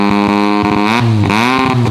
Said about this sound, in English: has smoked up the motorbike